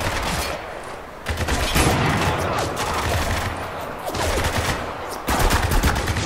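Sustained machine-gun fire crackles through a firefight in Spec Ops: The Line, loud and close, with sharp surges of fire and brief dips between bursts.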